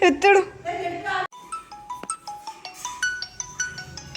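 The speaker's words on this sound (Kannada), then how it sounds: "ಅಜ್ಜಿ ಫೋನ್ ಮಾಡ್ತವ್ರೆ, ಹೋಗಿಲ್ಲ ಅಂತ." A mobile phone ringtone chimes in a steady repeating melodic pattern at home, following a burst of talking and a brief pause.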